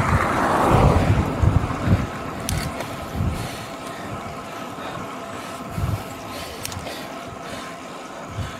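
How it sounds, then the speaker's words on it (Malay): Strong wind buffets the microphone while cycling solo on a short loop route at Olak Lempik, a steady low rumble with gusty swells, loudest at the start, with no talking. "Angin kuat."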